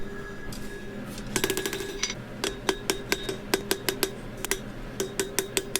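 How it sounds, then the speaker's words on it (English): Hammer blows on hot steel at the edge of an anvil while a leaf is forged, sharp ringing metallic strikes close by, first in a quick cluster and then in a steady rhythmic series. "Hammering on the edge of the anvil."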